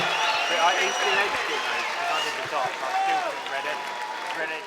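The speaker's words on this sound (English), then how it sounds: "a big round of applause for both of these men after 5 grueling rounds of action" An arena crowd at a boxing event applauds both fighters after five rounds, steady clapping and cheering throughout while an announcer speaks over it.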